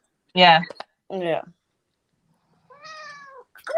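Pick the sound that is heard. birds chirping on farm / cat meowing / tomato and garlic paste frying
cat meowing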